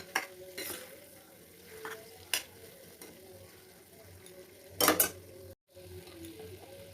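Powdered spices frying in oil for amla pickle, a soft, quiet sizzle broken by a few sharp utensil clinks and scrapes against the pan, with a brief cut to silence near the end.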